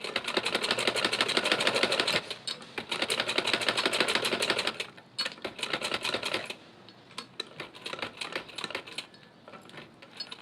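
A sewing machine stitches fabric while a neckline is sewn with dori trim, a rapid close mechanical chatter in bursts that stop and restart, slowing and thinning toward the end, with no talk.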